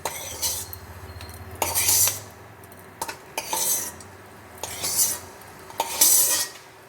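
Fried peanuts scraped and scooped out of a kadai with a metal spoon while cooking a Bengali sabudana dish with vegetables, giving five bursts of close metallic clinking and rattling over a faint steady hiss.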